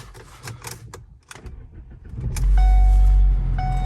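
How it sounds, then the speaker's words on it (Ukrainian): Clicks and rattles come first, then the 2.0 engine of a US-market Ford Focus 3 cranks and catches after a spark plug replacement, settling into a loud, steady idle with a thin whine above it. "Після заміни свічок запалення запускаємо двигун, перевіряємо, чи все добре."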